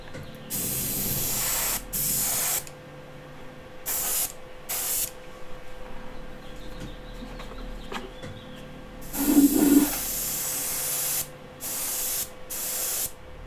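Airbrush spraying sealant over a Tusken Raider model kit in repeated loud hissing bursts of a second or two, separated by quieter gaps, with no talking.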